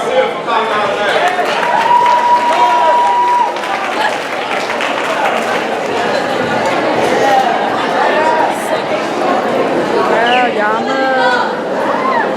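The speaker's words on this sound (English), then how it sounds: "Give a round of applause to Ms." At a school house meeting, an audience gives a student a sustained round of applause. Clapping fills the room, with crowd chatter and cheering mixed in, and it stays loud throughout.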